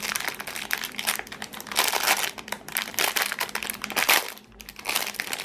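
Plastic packaging of a Beyblade Valtryek top crinkling and crunching as it is opened, loud, close and continuous, with no talking.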